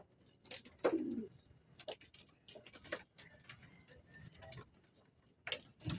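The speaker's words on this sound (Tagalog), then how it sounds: "dalawang kalapati na isinama na natin sa training ngayon" Racing pigeons during a training release coo in short, soft bursts, nearby and fairly faint, scattered across a few seconds with small clicking noises between them.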